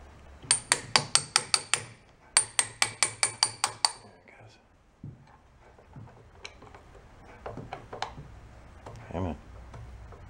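Sharp metallic taps of a socket striking a stuck part on an antique Gile marine engine, two quick rhythmic bursts of about eight hits each, then scattered single knocks, close and loud.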